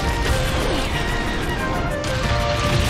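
A heavy smashing impact from a Pokémon Battle Revolution match, a loud crash and thwack that lingers over game music and battle noise, with no talk heard.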